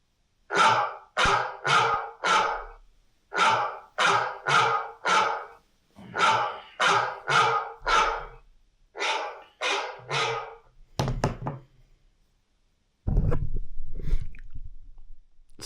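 Dogs bark loudly in quick repeated bursts of three to four, pausing between volleys, with no talk over them, followed by a short rustling thump and a stretch of rougher noise.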